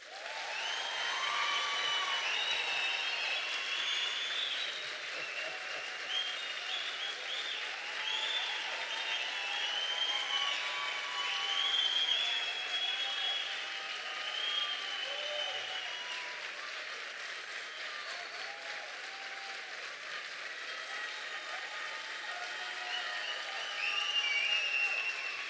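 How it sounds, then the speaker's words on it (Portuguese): A church congregation applauds a pastor and his wife in sustained, even crowd clapping that runs unbroken for the whole time, fairly soft and roomy, without anyone talking over it. "Eu quero que vocês dêem uma salva de palmas para o pastor Camilo e para a Mariette."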